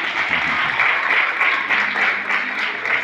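Audience applause fills the room, a steady dense wash of many hands clapping together at an even level throughout, with no single voice standing out.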